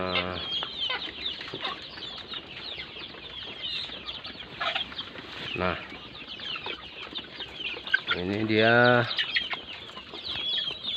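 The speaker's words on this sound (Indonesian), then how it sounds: "ayam kita juga" Farm chickens clucking and calling on a small independent poultry farm raising breeding hens and two-month-old birds, with someone talking over much of it and one louder call rising near the end.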